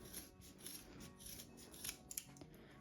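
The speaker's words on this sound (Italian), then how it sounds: "In questo caso quindi vado a tagliare" Scissors snip through macramé cord several times in quick succession, crisp close cuts with light rubbing between them, quiet overall and free of talk.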